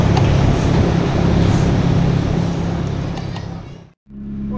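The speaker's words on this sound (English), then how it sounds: "we got an idle issue, just idling high as hell" A Honda Prelude engine idles high on a dyno, a dense, steady drone close up that fades slightly and then cuts off briefly near the end before resuming.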